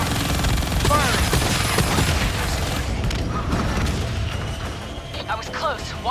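Weapons fire in a Call of Duty Black Ops 3 cutscene, a dense rumble of booms and rapid gunfire with voices talking over the din.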